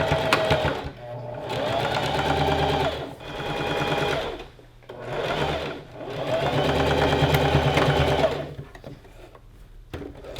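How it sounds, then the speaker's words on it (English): Sewing machine stitching the seam of a gathered skirt with pockets, steady close motor whir in several runs of a couple of seconds each, separated by brief pauses. "So we're just gonna start sewing from there."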